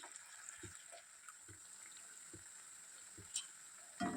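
Cauliflower pieces fry in hot oil, spread apart in the pan, giving a steady close sizzling hiss throughout with a few soft taps and clinks along the way; nobody speaks.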